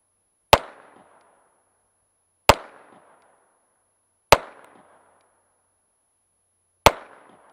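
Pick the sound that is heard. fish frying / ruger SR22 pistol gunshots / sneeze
ruger SR22 pistol gunshots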